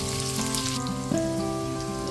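Mustard seeds, cumin and green chili tempering in hot oil give a steady, close sizzle with crackling pops throughout, under a faint sustained musical tone.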